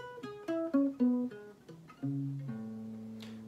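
An acoustic guitar left untuned for two or three years, played as a short run of plucked single notes that ring and decay one after another, fairly quiet and close, with no talk.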